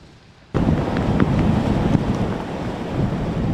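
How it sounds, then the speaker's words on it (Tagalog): Rough storm-surge waves pound the coast of Barangay San Miguel, San Antonio, Zambales, a sudden loud rush of surf and roaring wind noise that stays heavy and continuous after kicking in abruptly. "Mabagsik ang mga alon, lalo rito sa bahagi ng karagatang sakop ng Barangay San Miguel sa bayan ng San Antonio."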